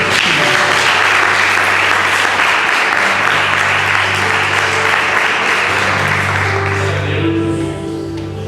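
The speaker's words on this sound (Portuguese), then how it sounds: "Agora sim, você pode aplaudir o Senhor." A church congregation at a youth service breaks into loud, sustained applause, a thick continuous wash of clapping with a low musical drone beneath, thinning slightly toward the end as keyboard notes come forward.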